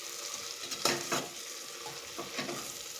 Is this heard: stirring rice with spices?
yes